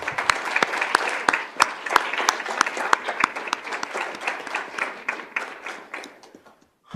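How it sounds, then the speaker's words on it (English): An audience at a Peoria Unified school board meeting applauds retirees, a steady round of clapping from many hands that tapers off and stops near the end. "One more round of applause for the retirees."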